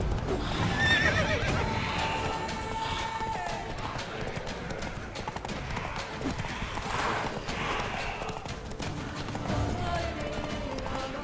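Roach, a horse in The Witcher 3, whinnies and neighs over steady clip-clop hooves of a gallop, with game music and ambience running underneath throughout.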